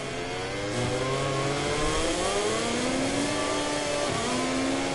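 A KTM racing motorcycle screaming at high revs during a MotoGP sprint race in Catalonia, its loud, continuous engine note climbing through the gears with brief pitch dips at each shift.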